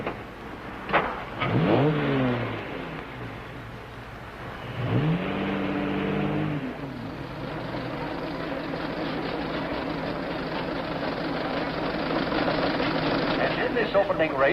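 Antique cars including a Model T rev and accelerate at the start of a race, with rising and falling engine tones and a steady running drone, heard under people talking.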